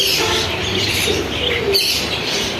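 A pair of budgerigars at a crowded bird market in Tongi chirps and twitters amid dense surrounding birdsong and cooing, loud and close in a continuous busy chorus.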